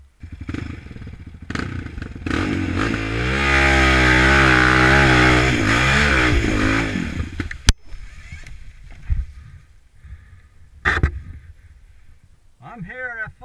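Motorcycle with a loose drive chain, engine droning and swelling loudly for several seconds, then idling amid sharp clattering knocks and rattles, with a voice briefly heard near the end.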